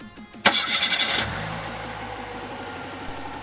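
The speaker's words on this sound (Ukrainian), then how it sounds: "Проводимо заміри, коли двигун працює на газовому паливі метан." A petrol car engine converted to run on methane gas fires up with a sharp burst of revs, then settles into an even, close idle.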